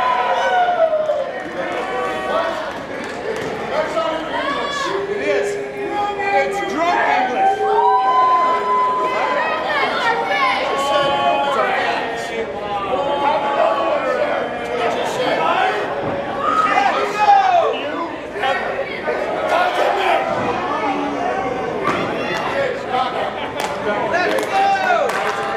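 A wrestling arena crowd roars and cheers steadily through a tag team match between Billy Gunn and Gangrel and Mosh and Thrasher, a dense, continuous wash of noise with a commentator talking over it.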